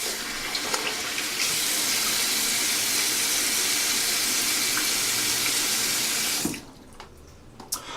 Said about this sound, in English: Let me just wet my face real quick